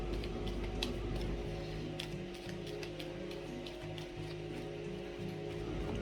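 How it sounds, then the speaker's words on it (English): Low, steady mechanical hum of a tumble dryer running in the background, with faint repetitive clicks and a tonal drone. "I do apologise about the noise in the background. I have had to put my dryer on"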